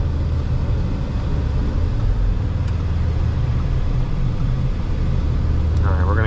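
A 2023 MK8 VW Golf R is driven through a corner, heard from inside the car as a steady, loud, low engine drone with road rumble, ending in a short high-pitched chirp.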